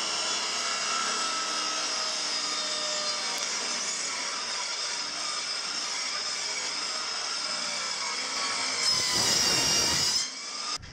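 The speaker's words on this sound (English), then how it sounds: "I think I'm gonna see what I can do with this on the table saw." A table saw cuts strips of wood in a sustained, loud whine that holds steady and then rises with a harsher burst near the end.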